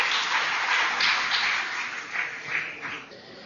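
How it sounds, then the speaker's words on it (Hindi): An audience claps to welcome a speaker at a talk, steady dense applause from a crowd that holds for several seconds and then begins to thin out. "तालियों की गड़गड़ाहट से उनका स्वागत करें"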